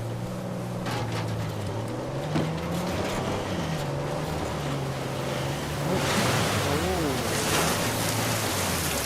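Waterfall in the Uncharted 4 video game, a steady broad rush of falling water that fills the scene continuously and swells louder in the latter part, with game music and faint voices underneath.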